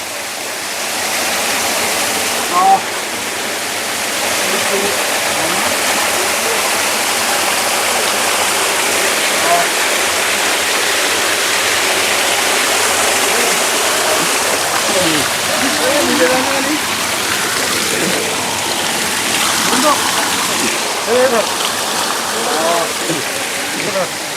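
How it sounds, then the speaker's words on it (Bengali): A hill waterfall at Marayong Tong in Alikadam, Bandarban, roars in a loud, steady rush of falling water close by, with people talking over it. "আপনি যদি এরকম ঝর্ণা দেখতে চান অবশ্যই আপনাকে আসতে হবে বান্দরবন"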